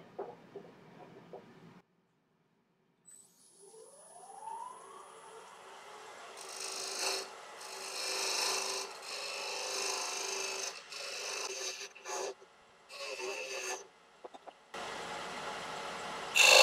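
A lathe tool cuts a small recess into the base of a spinning tigerwood and walnut box, giving bursts of close scraping and rasping over a motor whine, broken by short pauses.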